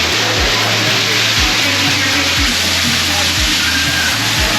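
Rushing water of a waterfall inside a Disneyland attraction queue, a steady loud broadband roar with low periodic thumps underneath, continuous throughout.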